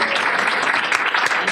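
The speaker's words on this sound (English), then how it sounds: "So if you could just give one more round of applause for our staff." Audience applause for staff at a ribbon cutting, a dense steady patter of clapping that fills the whole clip, loud and close, with faint voices mixed in.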